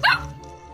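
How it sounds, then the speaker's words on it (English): A dog gives one short, sharp bark at the start, followed by a quieter low hum, in a text-to-speech storytime. "I've always wanted a dog."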